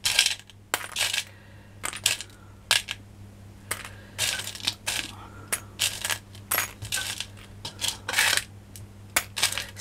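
Small metal craft charms, such as tiny scissors, owl, letter and heart shapes, are dropped by the handful into a bag, giving repeated bright clinking bursts up close with short pauses between them and a low steady hum underneath.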